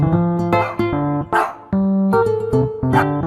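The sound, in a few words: dog barking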